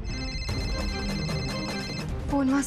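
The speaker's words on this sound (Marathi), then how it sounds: "फोन वाजतोय" A mobile phone rings nearby with a repeating electronic melodic ringtone in steady pulses, carried over a low background of music.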